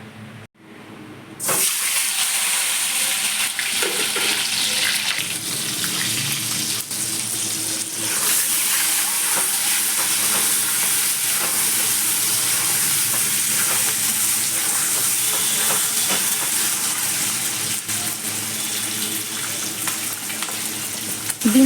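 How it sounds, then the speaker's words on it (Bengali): Eggs fry in hot oil in a home kitchen, crackling and sizzling loudly and continuously, with occasional stirring scrapes and a steady hiss that starts abruptly after a brief quiet moment. "ডিম ভাজা কমপ্লিট হয়ে গেছে,"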